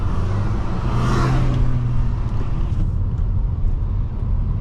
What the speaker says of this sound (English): I just love the punchiness of this engine